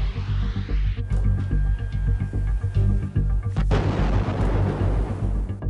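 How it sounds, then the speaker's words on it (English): A Bradley fighting vehicle's 25mm autocannon fires amid a heavy, rumbling din, with sharp blasts, one especially loud near the end, over a constant low roar. "A 25mm autocannon and a pair of tow-guided anti-tank missiles on the turret"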